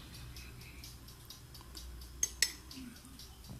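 A spoon stirs a donut glaze of icing sugar, warm water and butter in a bowl, with a quiet scraping swirl and two sharp clinks against the side, close and otherwise calm, with no voices.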